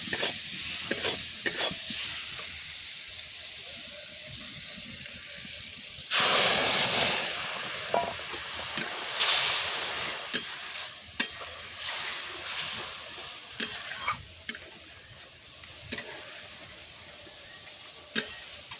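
Rohu fish roe and mango chutney is stirred in a frying pan in a village kitchen. Scraping spoon strokes ring out over a constant sizzle that swells into a louder hiss partway through, with sharp clinks along the way and no talking.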